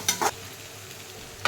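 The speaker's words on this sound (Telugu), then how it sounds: "ఆనియన్స్ మగ్గుతూ ఉండాలి" Onions cook in oil for garlic chicken fry, with a faint, low sizzle underneath. Two quick stirring scrapes come early, and a third comes at the very end.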